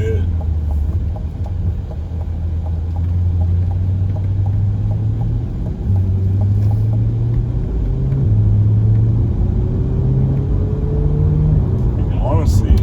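A Chevrolet Corvette Stingray under way delivers a loud, close engine drone and road rumble, its pitch rising as it accelerates through a couple of gear changes.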